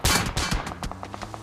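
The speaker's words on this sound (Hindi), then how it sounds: "एंड सेकंड में गोली चलती है" Gunfire in the BGMI battle royale video game, a rapid burst of loud shots at the start trailing into a quicker, fainter sequence of distant rounds, with no talk.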